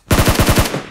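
Automatic gunfire from PUBG Mobile: a rapid burst of about six sharp, evenly spaced shots, loud and close, with no talk.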